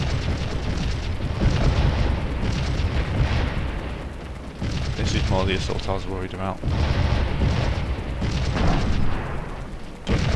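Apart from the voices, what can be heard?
cannon fire hitting a regiment in Scourge of War video game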